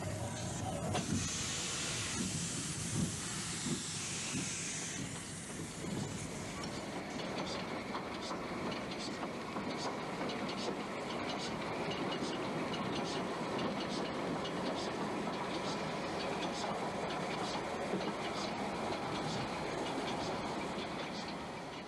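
A train on a Portuguese narrow-gauge line rumbles and clatters steadily as it pulls out, with a rhythmic wheel clack and a hiss of brakes or air near the start.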